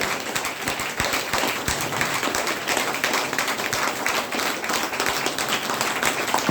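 Audience clapping at a health special training programme in Bhagwanpur, a dense, steady patter of many hands sustained throughout at close range, with no talk over it.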